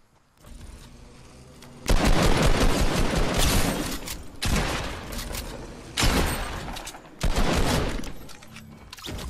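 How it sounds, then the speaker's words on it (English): Loud, dense volleys of gunfire in Fortnite Battle Royale come in four distinct bursts, each erupting and tailing off, near and dominant with little talk. "Gun sounds weird then."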